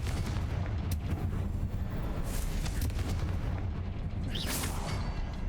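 A Confringo explosive spell blasts in the Hogwarts Legacy video game, a loud booming burst over a dense, rumbling battle din, with a few sharper bangs around it.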